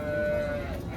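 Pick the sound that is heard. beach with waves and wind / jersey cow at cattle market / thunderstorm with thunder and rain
jersey cow at cattle market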